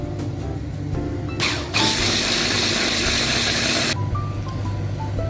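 A kitchen mixer grinds spinach with tomato and onion gravy in its container, a steady loud whirring drone that starts after a few brief clicks and bursts, then cuts off near the end.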